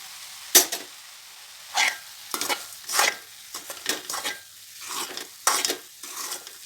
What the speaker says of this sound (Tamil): அந்த கேரட் விழுதோட நாட்டு சர்க்கரை போட்டு நல்லா கிளறிட்டு இன்னும் கொஞ்சம் அனல் கம்மியாக வச்சிடலாம்